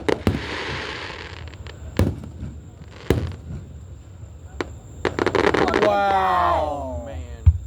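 Fourth of July fireworks over Marianna, Florida: several sharp booming bursts spaced a few seconds apart, then a rapid cluster of crackling reports and a whistling shell, with people talking nearby between the blasts.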